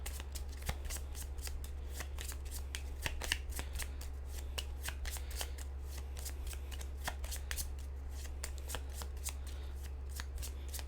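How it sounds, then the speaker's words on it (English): Deck of game cards being shuffled at a tabletop playtest, a steady run of crisp riffling snaps repeating close by for the whole stretch over a low constant hum, no talking. "Let's get this shuffled."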